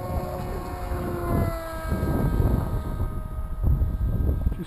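An RC model plane flies and climbs with a steady, high-pitched motor whine, loud and close, under gusty wind buffeting the microphone.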